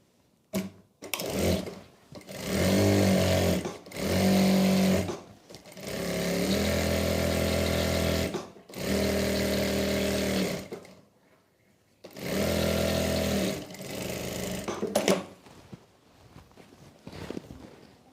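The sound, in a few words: sewing machine stitching salwar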